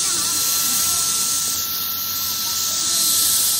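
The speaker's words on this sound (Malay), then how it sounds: "Bantuan kipas angin." Electric fan blowing a steady, loud broadband hiss of air close by, continuous and unbroken throughout.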